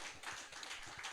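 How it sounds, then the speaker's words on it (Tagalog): Clapping from a church congregation during a worship service: a brief, faint burst of many hands clapping together, with no talk over it. "isa nga pangapong palakpak sa ating Panginoon"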